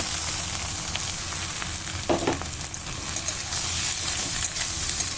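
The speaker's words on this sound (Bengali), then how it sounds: "এবার আমি মূলোটা দিয়ে ভালো করে ভেজে নেব" Radish fries in a pan with a loud, continuous sizzle and hiss close by. Brief stirring bursts rise from the sizzle, and there is no talk.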